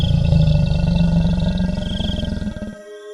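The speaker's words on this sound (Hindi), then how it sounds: "चुड़ैल गुर्राने लगती है।" A witch's growling effect, a loud, deep, pulsing roar lasting nearly three seconds before cutting off abruptly, leaving faint tones behind, with no speech.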